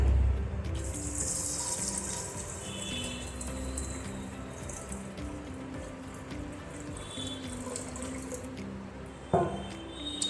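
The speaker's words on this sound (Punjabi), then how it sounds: "ਤੇ ਹੁਣ ਆਪਾਂ ਇਹਦੇ ਵਿੱਚ ਪਾਣੀ ਪਾ ਦਵਾਂਗੇ" Water pours into a pressure cooker holding chickpeas and a bay leaf, running in a steady liquid stream with small splashes and a knock near the end, close by and fairly quiet.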